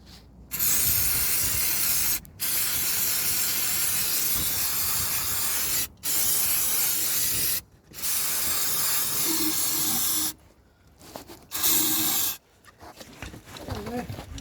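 Compressed air blasts in loud, sustained hissing bursts from an air compressor nozzle during an engine service on a Rover 45 Impression CVT, stopping and restarting several times with short gaps, the last bursts shorter and more broken.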